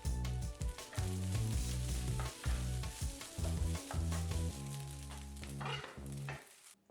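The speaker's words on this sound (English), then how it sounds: "Giving the rice a chance to crisp up for like a minute or two, and then mixing again" Rice with spinach and tofu crisps and sizzles in a pan as it is stirred, giving dense frying crackle and scraping, with steady tonal sounds running underneath before a brief stop.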